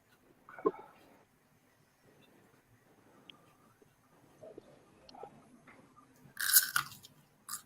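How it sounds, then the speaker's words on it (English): Pods being chewed and crunched, with scattered crisp bites and munching sounds close to the mic, separated by quiet pauses and ending in a louder burst of crunching. "Are you actually chewing these pods, Gus, or just swallowing them?"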